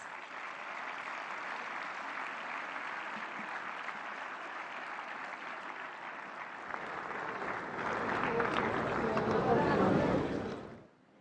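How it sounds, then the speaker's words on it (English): A large audience at an AI summit in Delhi applauds to welcome the Prime Minister, a long steady roar of clapping that swells louder near the end before cutting off abruptly. "let's welcome him with a round of applause."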